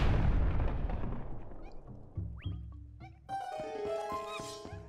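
A bomb explodes in Zelda Twilight Princess HD with a loud, booming burst right at the start that fades away. Bright chime-like musical tones and game effects follow after.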